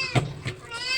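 A pet cat gives two short, loud meows close by in a rural home kitchen, over low background noise.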